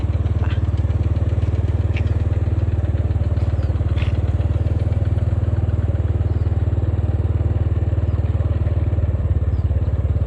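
A tractor engine driving a water pump chugs steadily and loudly nearby in a rice paddy, a constant low mechanical drone with rapid pulsing and occasional faint clicks.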